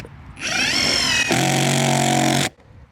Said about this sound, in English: So I'm going to drill my holes here and here, but on this wood.